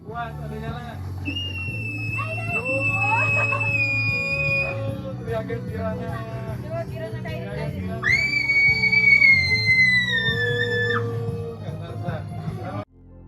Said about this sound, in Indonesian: Makin keras teriakan yang kita keluarkan, makin tinggi pendaran cahaya yang terpancar.